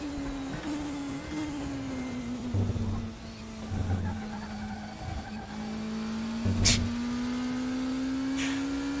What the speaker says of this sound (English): tyre squeal noise through there